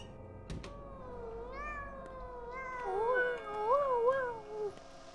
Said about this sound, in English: when I hear a cat meow